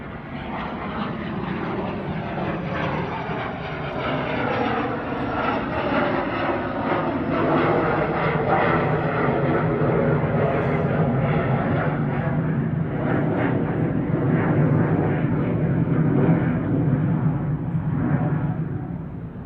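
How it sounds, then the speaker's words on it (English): A Cessna Citation jet departs Manchester Airport bound for the Isle of Man, a sustained loud roar of engines that holds steady and swells slightly toward the end, with no talk. "Cessna Citation jets heading over to the Isle of Man"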